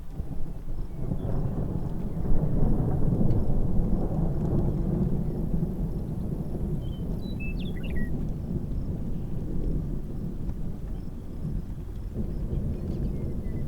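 A long, low rumble of thunder from a storm on the plains rolls steadily through the whole stretch, broad and heavy, with some wind and no talking.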